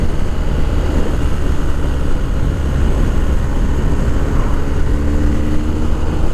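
A 2020 BMW R1250 R motorcycle accelerating hard at wide-open throttle, a steady loud engine roar with wind rush running unbroken throughout, no voices.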